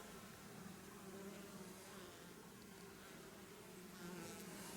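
Honeybees buzzing at the entrance of a beehive, a steady low drone of many wings with a faint, continuous hum throughout and no talking.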